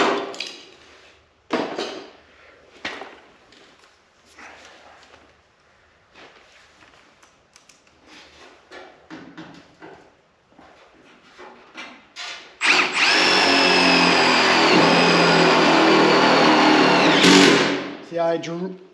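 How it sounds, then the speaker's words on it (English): A power drill drives screws into a replacement firewall on a 1973 Plymouth Cuda, running as one loud sustained whine near the end after quieter scattered handling noises. "I'm going to put some screws in here."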